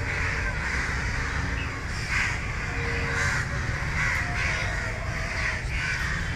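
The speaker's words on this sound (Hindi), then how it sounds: "इतने पंछियों की आवाज़ सुनो कितनी प्यारी आवाज़ आ रही पंछियों की" Crows and other birds call in a park at dusk, a dense, continuous chorus of caws and chirps filling the air with no voices.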